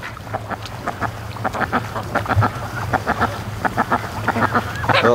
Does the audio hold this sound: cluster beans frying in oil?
no